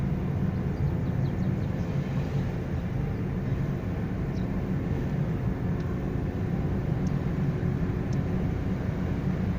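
Inside a moving car held in a low gear, the engine keeps up a steady, strained low drone with road rumble, continuous and even, with no one talking.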